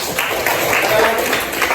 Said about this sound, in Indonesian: Tepuk tangan sekali lagi untuk dia.